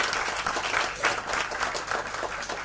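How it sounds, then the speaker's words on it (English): An audience at a morning panel forum applauds, a dense, steady burst of many hands clapping together, fairly close and even, with no pause. "a big applause for the panel"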